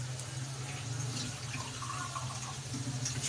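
Water runs from a tap or is poured steadily into a kadhi pakora mixture of gram flour, salt and green chillies, a continuous close-up stream with a low hum behind it.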